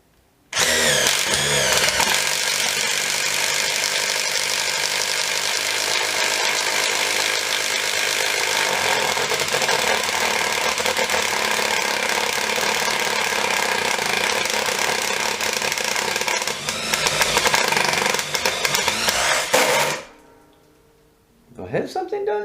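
A DEWALT DCF801 12V brushless impact driver fitted with a 22mm bit runs in one long, loud, continuous burst close up, then stops abruptly near the end before a brief restart.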